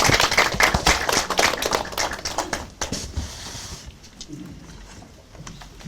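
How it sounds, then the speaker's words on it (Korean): Audience applause at a Korean political party forum on Chinese structures in the Yellow Sea, a burst of many hands clapping that starts loud and thins out toward the end. "큰 박수로 부탁드립니다."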